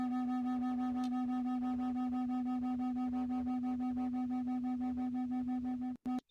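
Two tuning forks of slightly different pitch sound together, a steady pure tone with a gentle rhythmic swell and fade in loudness, continuous and fairly loud, cut off abruptly near the end.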